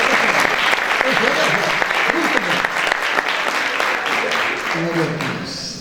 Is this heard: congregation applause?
yes